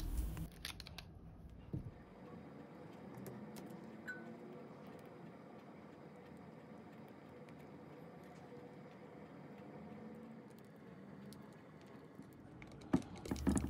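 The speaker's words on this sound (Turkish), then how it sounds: "Şimdi sıkma torbamızın uç kısmını makas yardımıyla keselim" A pair of scissors snips the tip off a piping bag while a lemon dessert is prepared in a kitchen, giving a few faint, crisp cuts near the start and end with quiet room tone between.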